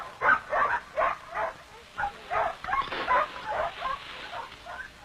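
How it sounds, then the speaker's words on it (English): Sled dogs in an outport village barking, yipping and whimpering, a pack calling in repeated short bursts at moderate distance with no speech over them. "The dogs are used to haul many different loads."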